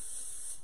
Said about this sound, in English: We have one pan, a little bit of spray canola oil.